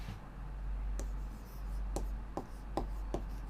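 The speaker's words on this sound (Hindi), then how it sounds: "इसका मैं यहां लिख देती हूं।" A teacher writes notes during a class 12 biology lesson, making a series of faint, short scratching strokes against a low steady hum.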